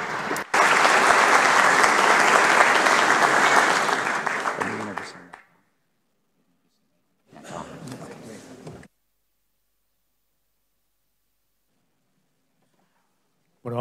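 An audience applauds after a talk on the plum market at an agricultural conference. A loud, dense burst of clapping holds for about four seconds and tapers off, then a shorter, softer round follows after a pause.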